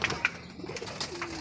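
Pigeons cooing softly at a loft as they come in, a few low murmuring coos with light rustling, close by and fairly quiet.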